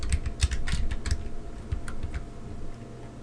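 A password is typed on a computer keyboard in a quick run of crisp, close key clicks that slow and thin out toward the end, with no voices.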